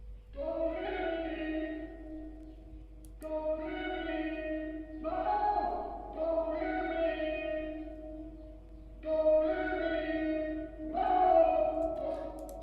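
A sung vocal sample drenched in Valhalla and Arturia reverb, several sustained phrases with long washy tails blending into each other, with a low steady hum underneath and no talking.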